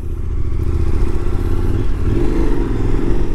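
A 2017 KTM 1090 Adventure R motorcycle pulls hard with a loud, steady engine drone that climbs under acceleration, heard close up from the rider's position with rushing wind and no talk.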